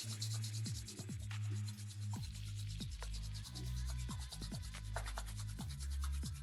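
Two palms rub briskly together in a steady, soft swishing friction that continues for several seconds, close and quiet, over a faint low background hum.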